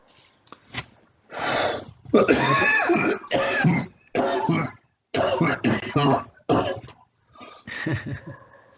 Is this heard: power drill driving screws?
no